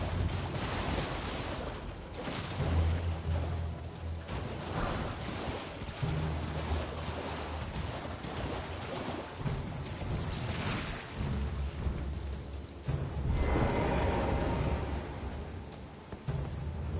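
Steady wash of water in the underground water catacombs of Elden Ring, a continuous rushing, surf-like roar with gusty wind-like swells, filling the space with no voices.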